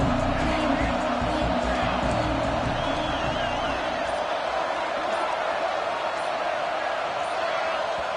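Stadium crowd at an American football game, a loud, steady roar that swells and holds throughout, with a commentator talking over the noise.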